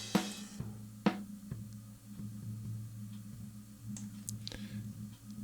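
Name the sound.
floor tom drum resonating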